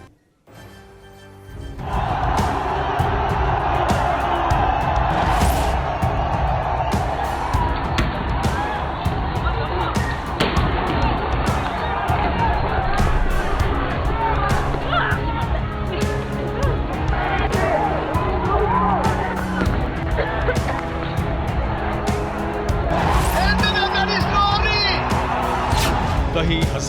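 Crowds of protesters fill a street in Sri Lanka, a dense, loud roar of voices and shouting that carries steadily and unbroken from start to finish.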